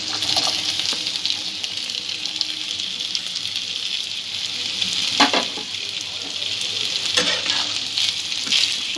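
Carrots and capsicum fry in a pan, a bright continuous sizzle with occasional stirring scrapes and louder spits, close and alone.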